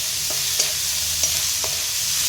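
Vegetables stir-frying in a hot pan for Chinese veg noodles, a constant hissing sizzle with a few light scraping stirs at regular intervals.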